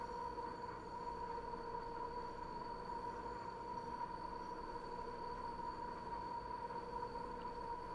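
A Class 90 electric locomotive runs at speed in the Train Sim World simulator, a steady rumbling drone with a sustained tonal whine held evenly throughout, with no talking.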